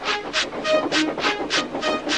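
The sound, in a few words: cartoon steam engine Thomas running on rails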